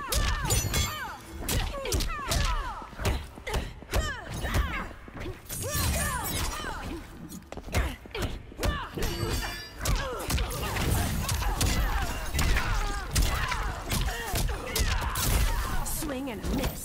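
Rapid punches, kicks, thuds and crashing impacts from Mortal Kombat 11 hit in dense bursts alongside whooshes and character grunts and shouts, with a spoken voice in the mix.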